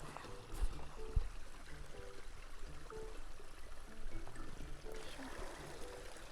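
A mountain river flows steadily in Dorogawa, Nara, as a steady broad rush of water heard from a forest hiking trail, with a few faint knocks and footsteps mixed in.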